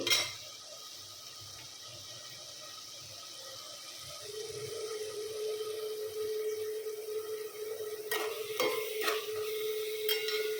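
Slit green chillies and curry leaves frying in a pan of oil for a fish curry, a steady sizzle that swells partway through, with a few sharp clanks of a utensil near the end.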